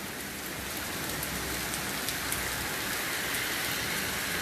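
Heavy rain pours down steadily, a dense continuous hiss of drops drumming on surfaces with no other sounds.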